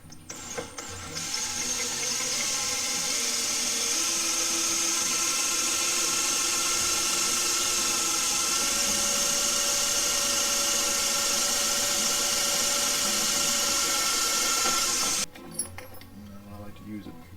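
A power drill bores holes into a part clamped to a workbench, a loud steady high whine running unbroken for about fifteen seconds before cutting off into quieter room sound.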